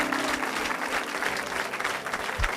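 A church congregation applauds and acclaims the Lord, a dense, steady wash of clapping across the whole stretch with a few cheering voices mixed in.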